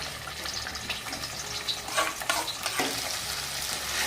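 Green coriander masala paste is stirred and fried in oil in a pan for a Maharashtrian patvadi curry, giving a soft, close sizzle with spoon scrapes and wet, splattering bursts.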